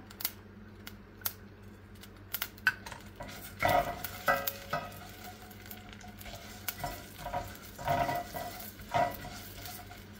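Urad dal sizzling as it fries in hot oil after mustard seeds crackle, a steady close crackle broken by louder bursts of stirring and utensil scrapes against the pan, with no talk.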